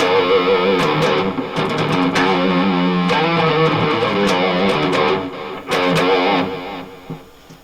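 Electric guitar played through a Line 6 Pocket POD on its echo drive model, with distorted sustained chords and notes trailing into repeating echoes, loud and alone, fading out at the end.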